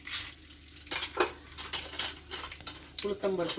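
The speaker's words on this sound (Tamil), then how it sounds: "எண்ணெய் கொஞ்சம் சூடானதும் கொஞ்சம் கடலைப்பருப்பு நிறையவே போட்டுக்கலாம்." Chana dal frying in hot oil in a pan, a soft crackling sizzle with scraping stirs and light clinks of a utensil, close by, while a person talks over it.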